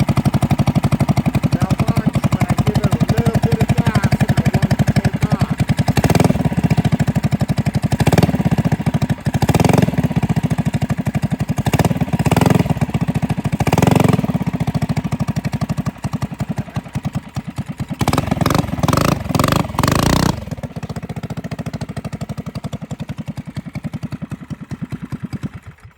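A rebuilt mini bike's small engine running loudly up close, with a steady idle broken by several sharp revs as the throttle is blipped, then a quick cluster of revs before it settles to a lower idle.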